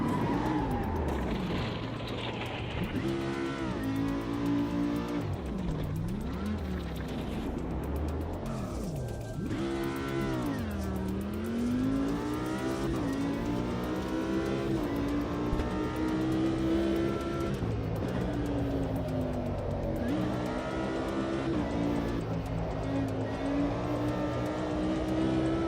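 An Audi R8 race car in the Automobilista 2 racing game, its engine revving hard and sweeping up and down through gear changes and braking, loud and continuous throughout with no talking.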